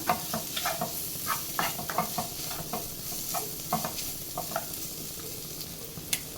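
Chicken fried rice with fried egg is stir-fried in a pan with a constant close sizzle. Quick rhythmic spatula scrapes and taps recur every fraction of a second, with no talking.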